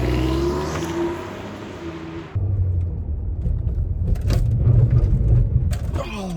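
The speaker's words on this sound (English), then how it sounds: "slam on my brakes and see what happens" A 2016 Ford Taurus SHO is heard from inside the cabin, steady road rumble under a music bed that cuts off, then a louder surge of tyre and engine noise as the car brakes hard, close and continuous.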